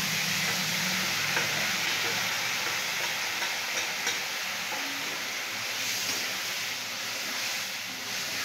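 Marinated chicken for egg chicken biryani frying in a karahi, a dense steady hiss of sizzling oil with faint scraping stirs, close and continuous.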